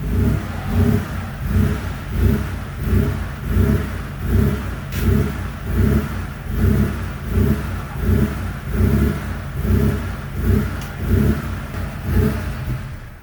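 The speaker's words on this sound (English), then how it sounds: "I think the engine is actually running properly" A Porsche 3.2 Carrera engine, under repair for a possible coil fault, revs repeatedly in a steady rhythm, about a dozen rising and falling blips, loud and close with no talk.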